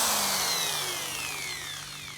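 A power drill running on electricity from a solar inverter whines steadily at close range, its motor pitch sliding and slowly winding down, with no talking.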